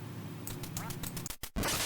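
A rapid series of quacks from a duck in a light-gun duck-shooting video game, played through speakers at moderate volume, followed by a brief gap and a burst of game noise.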